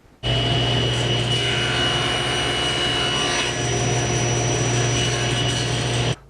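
A table saw crosscuts a small wooden piece held by an INCRA mitre gauge with a hold-down clamp, giving a steady, loud whirring blade hum that starts abruptly and runs for about six seconds before stopping.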